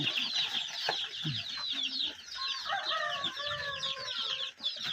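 Domestic village chickens, young birds near a month old raised on a farm fed with azolla, cluck and call continuously at close range, with overlapping chirps and clucks and no talk.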